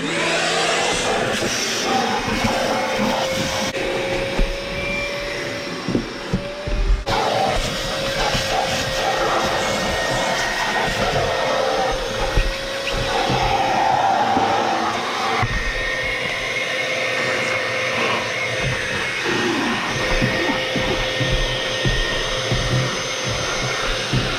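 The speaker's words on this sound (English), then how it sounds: "it is kind of dirty, so we'll start vacuuming" A vacuum cleaner runs steadily inside a dirty car interior, a loud continuous whooshing roar with shifting suction tone as the nozzle moves and brief bumps against surfaces, close and without talk.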